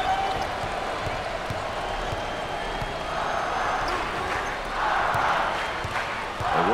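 An arena crowd at an NCAA college basketball game, LSU at Texas, roars as a continuous wall of cheering that swells louder midway and again toward the end, with scattered sharp thuds throughout.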